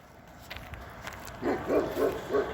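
Big dog barking from behind a fence, four loud, evenly spaced barks in the second half after a stretch of quiet outdoor background.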